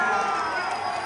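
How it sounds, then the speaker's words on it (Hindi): Loud crowd noise at a Bhojpuri stage show in Kolkata, a dense steady roar of cheering and applause filling the whole moment with no pause. "जोरदार तालियां।"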